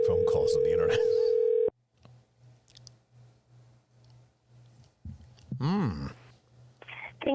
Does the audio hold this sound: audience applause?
no